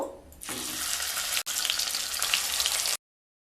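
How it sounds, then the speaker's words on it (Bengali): Fish frying in hot mustard oil gives a steady, close sizzle and crackle that holds loud for about three seconds, broken by one brief gap, with no voices. "তেল গরম হয়ে গেলে মাছগুলো ভেজে নেব।"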